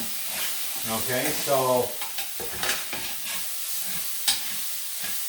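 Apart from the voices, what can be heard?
onions and mushrooms sizzling in pan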